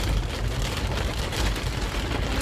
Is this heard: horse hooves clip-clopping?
no